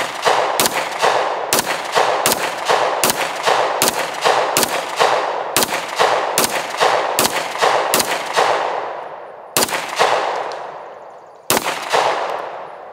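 Sig Sauer pistol shots crack out loud and close in a steady run of about fourteen evenly spaced reports, each ringing off with a metallic tail, then a pause and two more shots after a malfunction.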